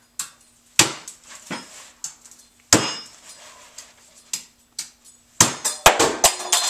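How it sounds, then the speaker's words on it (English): A heavy kitchen knife whacks into a coconut shell in a series of sharp, hard cracks, some single and some in quick clusters, with short pauses between the blows. "I give it a real hard whack"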